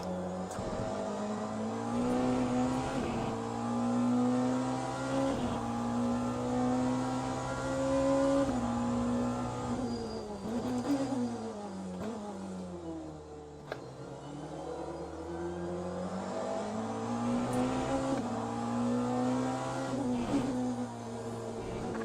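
A race car in Le Mans Ultimate at the Bahrain circuit, its engine holding a steady drone with pitch rising and falling through shifts and corners, loud and continuous with no talk.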